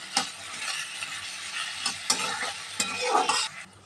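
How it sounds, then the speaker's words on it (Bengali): Salt and turmeric powder get stirred into a sizzling pan, with a soft steady fry broken by several scraping, knocking spatula strokes at an uneven pace and no speech. "দিয়ে দিচ্ছি 1 টেবিল স্পুন হলুদ গুঁড়ো, দিয়ে আবারও ভালোভাবে মিশিয়ে নিচ্ছি"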